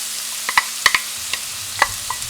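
Chopped onions fry in hot oil in a pan for a chickpea masala and are stirred now and then, with a soft steady sizzle broken by a few close scraping knocks.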